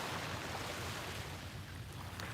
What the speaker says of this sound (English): the sounds of the waves,